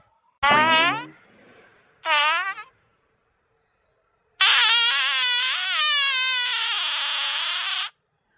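Three loud, drawn-out farting sounds come in sequence in a comic village skit. The first two are short and the last is a long, wavering blast, all close with silence between them.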